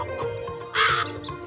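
A crow caws once, loud and close, in the Meena 2 video game, a harsh rasping call set over a soft game music background.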